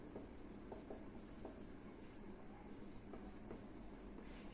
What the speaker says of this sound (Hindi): यहां पे लिख रहा हूं मैं कूपन कोड।